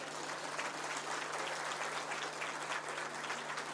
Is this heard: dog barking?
no